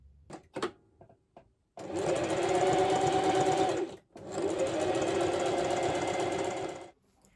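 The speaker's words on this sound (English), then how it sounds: "Now I'm going to take it to the machine and I'm going to do a straight line of stitching" A sewing machine sews a straight-stitch seam on a sweatshirt in two long, steady bursts of rapid stitching, loud and close, with a short pause between and a few clicks before.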